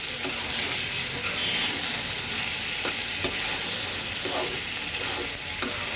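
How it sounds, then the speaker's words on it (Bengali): Polao rice and green chillies frying in a pan with a little oil, a steady close sizzle with the scrape of a spatula stirring now and then. "পোলার চালটা দিয়ে আমি কিন্তু খুব সুন্দর করে ভেজে নেব"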